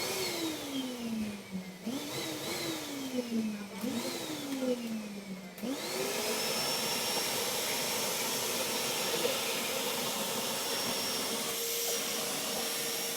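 A vacuum cleaner runs and sucks air steadily, its motor pitch sliding up and down in the first seconds before it settles into a loud, even, high-pitched roar with hiss, and nobody speaks.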